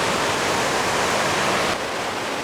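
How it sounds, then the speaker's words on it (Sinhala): A large waterfall in a Thai rainforest during the rainy season, heard as a loud, dense, unbroken roar of falling water close by. "මෙන්න waterfall එක වෙනවා"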